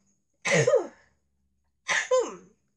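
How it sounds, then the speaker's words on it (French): Two short, sharp bursts a second and a half apart, each a quick nasal explosion like a sneeze or cough, close and otherwise silent. "je vais éternuer dans pas longtemps"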